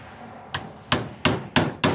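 A chisel is struck into wood for a double mailbox post. Five sharp, loud impacts come at a fairly even pace, close by, with no talking between them.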